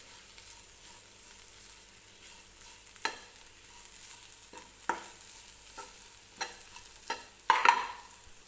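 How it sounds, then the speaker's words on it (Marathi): Onion, tomato and dry spices being sautéed in a pan over a low flame for a cauliflower and pea curry: a soft, steady sizzle broken by intermittent spatula scrapes and stirs, growing louder near the end, with no talking. "व्यवस्थित कांदा टोमॅटोमध्ये मिक्स झाला पाहिजे अशा पद्धतीनं आपल्याला परतून घ्यायचं आहे"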